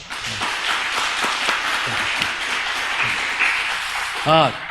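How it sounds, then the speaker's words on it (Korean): A church congregation at a Sunday morning service applauds in a steady, moderately loud wash of clapping, with voices mixed in and a brief tonal sound near the end. "우리 청년들 다 모두 힘내라고 크게 박수 한번"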